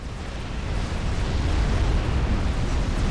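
Scathis artillery fire in the Warhammer online strategy game Warhammer: Dawn of War crashes in as a dense, sustained barrage of rumbling explosions, loud and continuous with a low roaring body and no talking.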